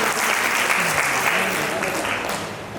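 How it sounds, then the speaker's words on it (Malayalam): An audience applauds young child performers at a church parish silver jubilee celebration, a dense steady wash of clapping that holds throughout and eases slightly at the end. "ഈ കൊച്ചുകുട്ടികളെ നമുക്ക് ഒന്നുകൂടി കൈയടിച്ച് പ്രോത്സാഹിപ്പിക്കാം."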